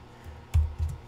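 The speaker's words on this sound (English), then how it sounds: "We're going to type in" A few soft keystrokes on a computer keyboard while entering a command on a Mac, two or three quiet close clicks after a near-silent pause.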